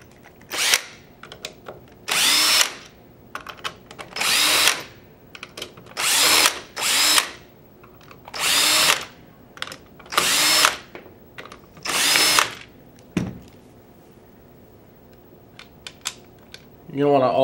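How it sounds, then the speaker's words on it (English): Power driver backing out the receiver screws of a Gryphon paintball marker: eight or nine loud, close whirring bursts of a second or so each, separated by brief pauses, then a faint rattle at the end. "start removing our receiver screws"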